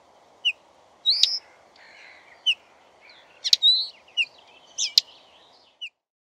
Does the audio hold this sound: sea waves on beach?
no